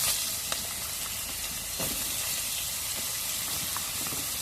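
Ridge gourd fries in a pan with green chillies for a light fish curry, a steady close sizzle and hiss with a few soft scraping stirs and clicks.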